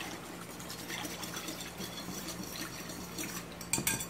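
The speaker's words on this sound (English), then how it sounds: "Give this a good whisk" A white wine marinade being whisked in a bowl, faint light clinking and swishing of the whisk against the bowl throughout, with a few brighter clatters near the end.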